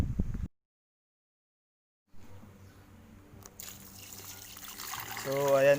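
Water trickles and pours into a 7.5-liter cheap pressure cooker, a steady, close stream that grows louder and fuller near the end, with a person talking before it.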